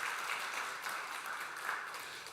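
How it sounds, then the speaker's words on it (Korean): A congregation applauds during a Sunday service at a church, a steady wash of many hands clapping together that carries on evenly throughout. "우리 박수로 환영하도록 하겠습니다"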